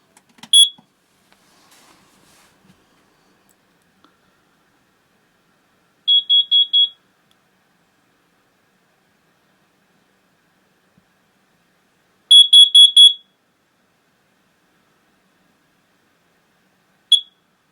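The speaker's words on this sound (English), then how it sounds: "Let's test this alarm now." A battery-operated carbon monoxide alarm is tested in a house, giving a loud, shrill beep followed after long pauses by bursts of four rapid beeps, with a single beep at the end.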